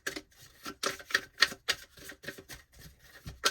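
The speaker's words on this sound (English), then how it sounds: "All right, one more shuffle here." Tarot cards from a Cosmic Tarot deck being shuffled by hand, a run of crisp, close riffling snaps and flutters in quick irregular bursts, heard alone with no talking.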